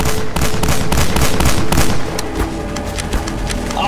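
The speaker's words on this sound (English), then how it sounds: "Stop throwing flashbangs!" Dense crackling bursts and booms of flashbang grenades in Garry's Mod, loud and continuous, with repeated sharp explosive cracks stacked over a steady rumble.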